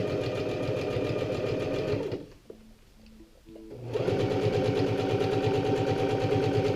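A sewing machine stitches the fly zipper of a pair of jeans, running in a close, steady, rapid rhythm. It stops briefly partway through, with a few soft clicks, then runs again.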